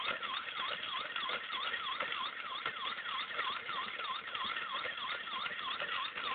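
An ambulance siren wails in a steady, rapidly repeating up-and-down cycle that runs throughout. It is moderately loud and continuous, with no talk over it.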